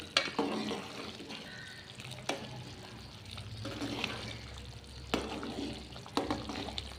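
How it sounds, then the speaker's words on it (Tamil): Thick Tamil-style kara kuzhambu curry with cowpeas and bitter gourd bubbles softly in a pot, with irregular pops and gurgles at a low volume. "இது நல்லா கொதிக்கிட்டுப்பா"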